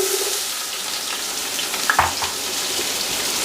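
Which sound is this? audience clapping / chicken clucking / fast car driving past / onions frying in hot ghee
onions frying in hot ghee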